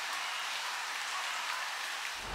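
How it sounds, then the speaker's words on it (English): Steady, heavier rain falls outdoors in Alloway, Scotland, a dense even hiss of drops close around, with a dull low thump at the very end. "it is starting to rain a bit heavier now"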